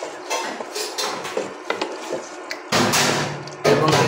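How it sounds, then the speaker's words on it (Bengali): Duck meat is stirred together with spices in a metal pot, giving irregular scraping and clanking knocks of a utensil against the pot, with louder, denser bursts of stirring near the end; no talking. "এবার হাঁসের মাংসটা মশলার সাথে সুন্দরভাবে মিক্সার"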